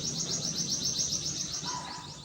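Birds call among big trees in a bird sanctuary, with a rapid series of high, repeated chirps over a soft outdoor hiss, fairly near and continuous.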